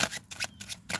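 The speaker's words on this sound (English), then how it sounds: "I'm sitting here shuffling a tarot deck" A tarot card deck being shuffled up close, with quick rhythmic riffling bursts of papery flutter repeating about three times within a second, and no voices.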